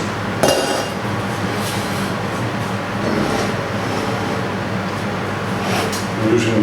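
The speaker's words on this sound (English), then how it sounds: "Removing the wing nut, stainless steel bar, hot, hot, hot." One sharp metallic clink as a wing nut and stainless steel bar come off a hot Speidel Braumeister 50L brewing unit during a pilsner brew, heard over a loud, steady mechanical hum.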